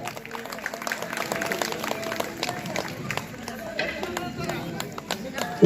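A crowd of devotees at a temple festival gathering applauds in steady, dense clapping that carries on throughout, with voices murmuring underneath and a sharp knock at the very end.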